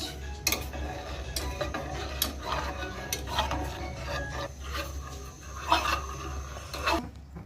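A spoon stirs milk tea in a pot, making irregular rubbing and scraping strokes with light knocks against the pan. The sounds are close and moderately loud over a low steady hum, and no voices are heard.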